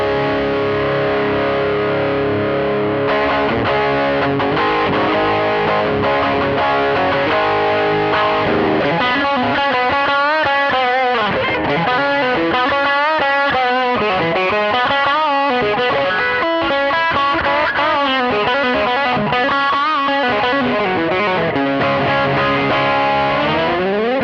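Electric guitar through a Boss SD-1 Super Overdrive pedal, played continuously with sustained overdriven chords at first and then busier riffs and bends, loud and close, with no talking.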